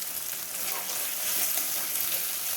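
Two cracked eggs frying in hot oil for chow mein, giving a constant, close hiss and sizzle with faint spitting, even and unbroken throughout.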